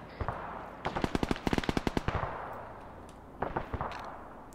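Arma 3 gunfire crackles in sharp bursts: an opening shot, a rapid automatic string of about a dozen rounds, then a shorter burst near the end, fairly close and loud against quiet background.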